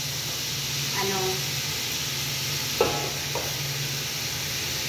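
Vegetables, carrots among them, dropped into a hot pan of oil, with steady sizzling and a couple of brief stirring clatters, close and fairly loud.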